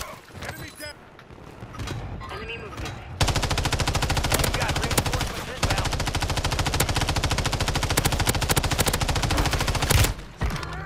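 Loud, rapid automatic gunfire in Call of Duty Modern Warfare Warzone rattles almost continuously for several seconds after a few scattered shots, with voices talking in the background.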